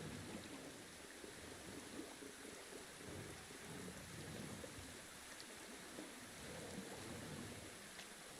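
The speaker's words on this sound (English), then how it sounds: "Rain." Steady rain pours in the Final Fantasy XV video game, a dense, even hiss with a low rumbling undertone that runs unbroken throughout, with no voices.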